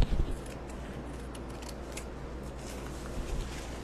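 Scissors snip through a decorative paper napkin, soft quick cuts repeating faintly over a steady room hum, up close and quiet.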